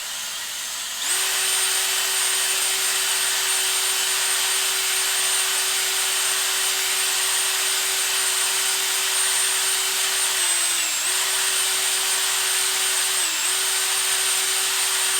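A drill-driven honing tool runs up and down inside an engine cylinder of a 5.0 Foxbody short block, a loud steady whine holding one pitch with two brief dips, close and without talk.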